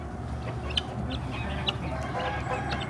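An aggressive Indian Game rooster clucks in short, scattered bursts over a steady outdoor background hum, fairly close and moderately loud.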